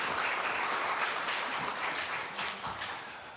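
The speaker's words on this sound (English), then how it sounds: "let's give Josephine a big round of applause" Audience at a Hayward city council meeting gives a round of applause, moderately distant clapping that holds steady and then tapers slightly toward the end.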